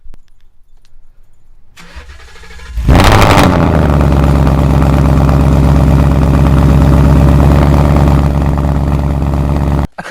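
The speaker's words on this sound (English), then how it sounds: "Let's go in with this cold start" A car engine cold start: quiet lead-in, a cranking whir, then the engine catches loudly and settles into a steady close idle that cuts off near the end.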